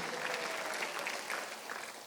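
Church congregation applauding during a Sunday worship service, a dense, steady patter of many hands heard from across the room, fading slightly toward the end.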